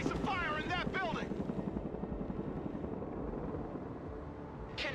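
A Chinook helicopter in the video game Broken Arrow drones with a steady, pulsing rotor thump throughout, loud and close, with a brief radio-style voice over it at the start.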